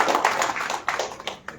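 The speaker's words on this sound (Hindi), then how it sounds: "तालियां भाई।" Brief, close burst of audience clapping in a hall at an event in Lucknow, a few uneven claps with sharp individual hits, fading quickly.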